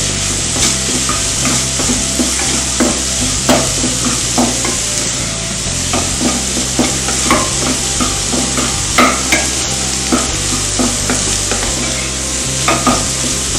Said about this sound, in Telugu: పొటాటో ఫ్రై అయిపోయిందండి